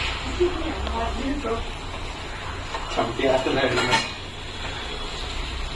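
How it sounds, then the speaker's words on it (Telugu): A utensil scrapes and clinks against a metal cooking pot while chicken is stirred, in irregular bursts with a louder stretch midway, as a person talks over it. "నెక్స్ట్ అలా తిప్పుకోవాలి ఫ్రెండ్స్ మొత్తం అంతా చికెన్"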